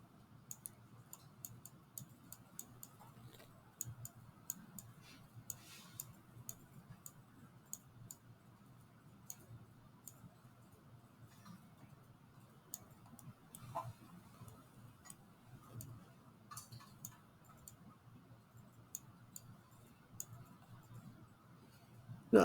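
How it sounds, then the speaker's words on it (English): A computer mouse clicks while terrain is painted in software, with sparse, faint, irregular clicks scattered over a low steady hum and no voices. "I'm unclicking my mouse and then clicking my mouse."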